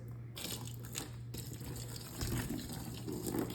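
Hot water is poured over a shirt for rust dyeing, a continuous splashing, trickling pour that grows slightly heavier toward the end, heard close with no voices.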